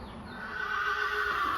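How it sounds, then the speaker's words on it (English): A horse whinnies loudly and at length, calling out while its stablemate is away, with a steady tonal cry that rises and holds near the listener. "The reason that he's baying all the time and crying out is because his barn mate or his friend is out jumping."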